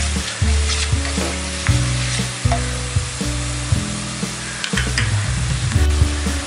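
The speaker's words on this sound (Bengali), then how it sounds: "পেস্টটা ভাজতে আমার 3 থেকে 4 মিনিট সময় লেগেছে।" Spice paste of cumin, coriander, chilli, garlic and ginger with a spoon of sugar frying in a pan for aloo dum, a loud steady sizzle broken by repeated scraping stirs, close up.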